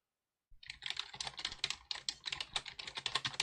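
Data being typed into spreadsheet cells on a computer keyboard: a rapid, continuous patter of close key clicks starting after a half-second of silence, alone and fairly quiet.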